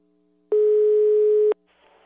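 A telephone line gives a single steady electronic tone lasting about a second while a call is being placed, loud and clean against near silence, followed by faint line noise.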